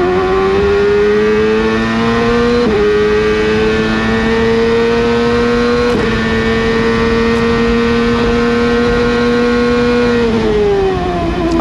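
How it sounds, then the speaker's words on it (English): On board a Ford-powered CART race car at Toronto in 1999, the engine drones loud and high-pitched at sustained revs, with brief dips at a few gear changes and no speech. "Let's listen to the Ford engine working hard here."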